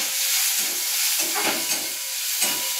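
Chopped tomato frying in a hot pan with spices, a continuous close hissing sizzle with a few gentle surges as it is stirred.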